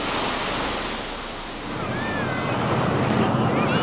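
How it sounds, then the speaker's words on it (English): Ocean waves roll in as a loud, continuous wash of surf, with heavy wind buffeting the microphone and a faint voice-like tone rising briefly near the end. "Obviously, you can see the ocean right now."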